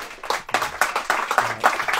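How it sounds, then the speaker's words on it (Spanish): An audience at a book presentation applauds, with dense, close clapping from many hands throughout a short burst. "un aplauso para los dos"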